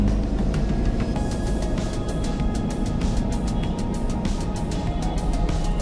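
Steady car engine and road rumble from inside a vehicle cruising straight ahead during a driving lesson, continuous and even throughout with no talk over it.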